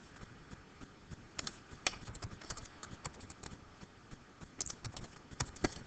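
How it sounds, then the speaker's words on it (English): Numbers being entered on a computer keyboard as a list, with quiet, irregular key clicks tapping in short bursts over a faint background. "just type in as a list our different upper limits"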